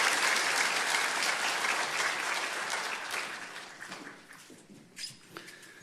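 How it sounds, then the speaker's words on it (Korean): A church congregation claps in welcome during a Sunday service, loud and dense at first, then fading into a few scattered claps and small sounds. "힘차게 박수하시며 환영하시겠습니다"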